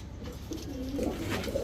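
Jira-neck high-flyer pigeons coo in a loft, several soft rolling coos rising and falling close by, layered over one another with a steady low background.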